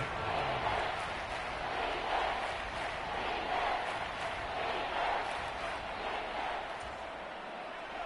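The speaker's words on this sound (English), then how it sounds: "The crowd getting into it as we come up on a big third down" A football stadium crowd building on a big third down, a broad distant roar of cheering that swells and fades in waves and stays steady throughout.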